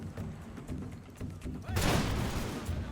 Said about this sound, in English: hopefully these guys will be ready to fire their volley